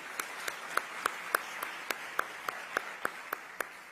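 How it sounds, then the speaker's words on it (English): Scattered, evenly spaced claps sound at an ICT summit as a round of applause goes to the chess team, each clap distinct and fairly faint over a quiet room. "So a round of applause to the chess team."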